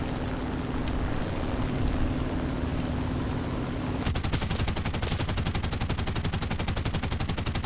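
Aircraft machine gun on an SM.79 bis T/M bomber in War Thunder: a steady engine drone, then a sustained, rapid, evenly spaced burst of forward-facing gunfire that runs for several seconds.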